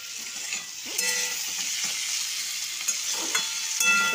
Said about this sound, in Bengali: আমি এখন মাছের ঝোল রান্না করে আলু ফুলকপিটা ভালো করে ভাজি।